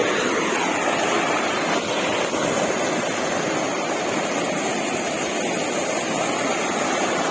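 Water flowing outdoors in a jungle setting, a continuous broadband rush close by that holds steady and unbroken the whole time, with no voices.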